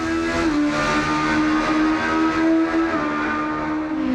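A race car engine in Assetto Corsa revs hard and close, its pitch dipping briefly twice as it shifts, sustained and loud throughout with no talk.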